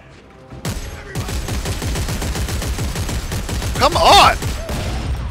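Rapid gunfire from Dead Space 3, a dense run of shots filling most of the clip with a louder burst near the end, as a player briefly shouts over it.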